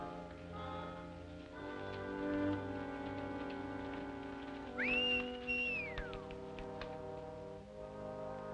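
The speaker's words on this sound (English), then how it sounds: "Whistling for that horse." A man whistles for a horse in a 1939 Western film, one clear rising-and-falling whistle that stands out over a soft musical score.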